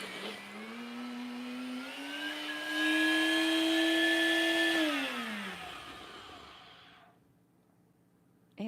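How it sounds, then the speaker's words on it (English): A NutriBullet blender whirs steadily while mixing homemade salad dressing, its motor whine climbing in pitch partway through, then spinning down and stopping, close and loud with no talking. "then it goes right on the NutriBullet"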